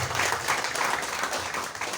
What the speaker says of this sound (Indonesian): Tepuk tangan buat Bapak Kepala Desa.